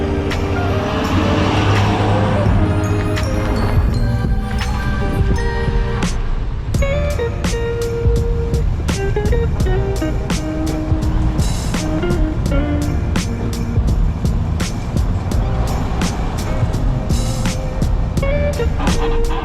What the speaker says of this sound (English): we are on the road with the Super Duty, towing the biggest thing that I've towed with it so far